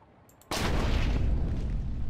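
Gunshot from a Minecraft plane mod vehicle in video game combat: a single sudden loud boom that starts sharply and trails into a dense, rumbling roar for over a second.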